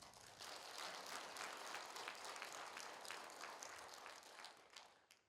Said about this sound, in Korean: 그들을 위해서 박수 한번